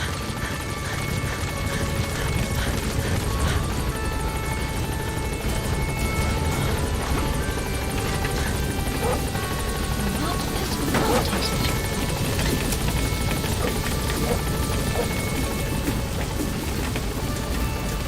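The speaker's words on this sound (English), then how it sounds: "Support helicopter has arrived." Support helicopter in Metal Gear Solid V hovers close, its rotors pounding in a dense, steady roar with rattling bursts and a crash-like hit partway through, with no voices.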